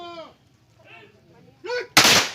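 Police honor guards at a police funeral fire a single loud, sharp ceremonial salvo rifle volley, heard close right after a shouted command.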